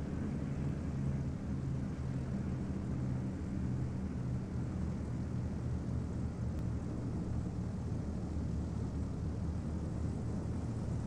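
A steady, droning aircraft engine at idle throttle in Flight Sim World holds a low, even rumble throughout, with no talk over it.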